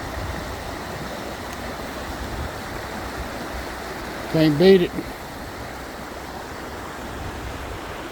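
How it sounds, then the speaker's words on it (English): Steady broadband rush of a mountain river flowing over stones at a quiet rest spot, continuous and close, with a brief spoken remark cutting in midway. "just listening to the river flow"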